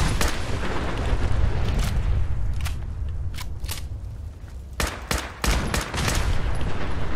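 Video game gunshots crack out in a quick volley at the start, then come as separate sharp shots spread across the clip over a constant noisy game background.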